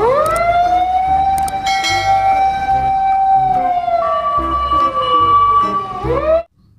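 Toy red fire engine siren wailing loudly and close, a long rising-and-falling electronic tone with a second higher pitch joining halfway, cutting off abruptly near the end.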